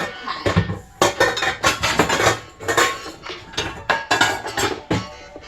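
A metal pasta pot is handled in a kitchen, giving a string of loud, close clanks and knocks of cookware and utensils in irregular bursts, with no talk.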